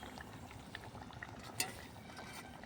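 A small hilsa fish curry simmers in a pan, giving a faint, steady bubbling with scattered soft pops and one slightly sharper blip, quiet and close, with no voices.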